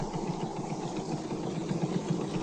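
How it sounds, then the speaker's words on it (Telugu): A boat engine idles in icy waters during a whale hunt, giving a steady, low, even throb with faint rhythmic pulsing and no voices. "ఉమిలాక్, ఇంజన్ స్టార్ట్ చేయి."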